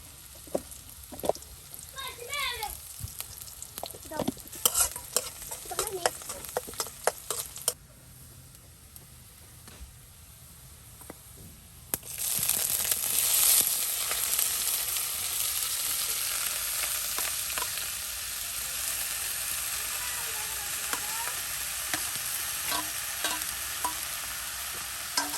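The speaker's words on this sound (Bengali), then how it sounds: "মেথি দিয়ে বাগার দিই।" Nigella and fenugreek seeds hit hot oil in a village kitchen, with stirring clatter and scrapes first, then a loud, steady sizzle takes over and continues to the end.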